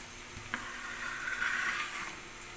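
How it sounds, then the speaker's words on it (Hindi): Fresh corn kernels hitting a frying pan with lightly fried ingredients bring on a steady, moderate sizzle, with a brief sharp crackle near the start and a louder hiss swelling in the middle. "अब मैं इसमें भुट्टा डाल दूँगी।"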